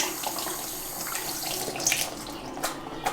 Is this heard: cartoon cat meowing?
no